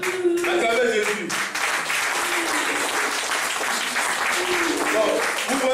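A church congregation applauds and cheers loudly and continuously, with voices shouting among the steady clapping throughout.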